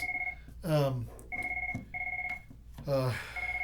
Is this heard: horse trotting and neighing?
no